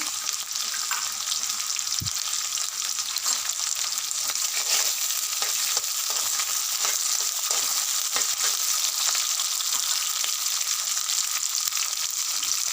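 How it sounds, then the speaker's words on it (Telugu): Crushed garlic, curry leaves, onions and dried red chillies frying in oil in a pan for a brinjal curry, a loud, steady, dense sizzle with a single clunk near the start and no talking. "ఉల్లిగడ్డలు రెడ్గా అయ్యే వరకు ఫ్రై కానివ్వాలి ఇలా ఉల్లిపాయ ఎల్లిపాయ మంచిగా ఫ్రై అయినాక"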